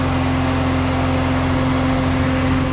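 A six-speed convertible car engine idles steadily and close by, with a low, constant hum and a strong, even drone throughout, with no voices.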